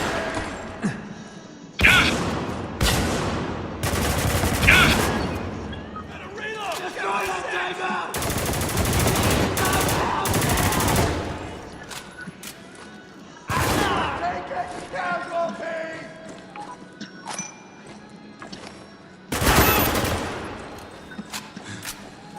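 Bursts of gunfire crack through a firefight in Spec Ops: The Line, with loud volleys and rapid automatic fire separated by quieter gaps, and shouting voices mixed in.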